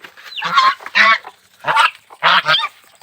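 Geese honk loudly and close by while being fed alongside ducks and chickens, in four or five harsh bursts separated by short pauses.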